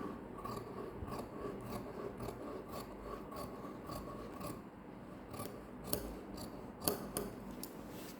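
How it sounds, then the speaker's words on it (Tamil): Scissors cutting through canvas cloth for blouse stitching make repeated rasping snips in a steady rhythm, close and moderately quiet, with no talking. "இப்போ நான் கேன்வாஸ் கிளாத்தை கட் பண்ணுறேன்"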